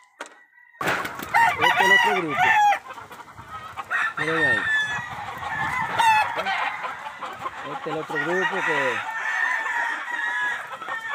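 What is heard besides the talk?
hens and roosters clucking and crowing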